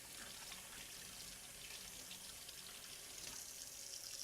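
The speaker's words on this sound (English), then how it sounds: "While your tweezer is under water, you want to make sure that you rinse all parts." Water runs steadily from a tap over trocar tweezers held under the stream, a continuous close hiss and splash with no break.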